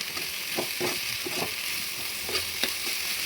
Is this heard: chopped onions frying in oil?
yes